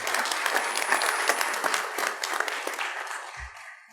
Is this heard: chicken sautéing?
no